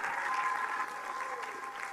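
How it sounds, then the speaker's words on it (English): Audience applause at a talk on women modernizing an old religion, a short, steady burst of many hands clapping at moderate distance. "I think great round of applause to each one of these guys."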